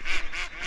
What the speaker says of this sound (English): Got a lot of ducks about this morning.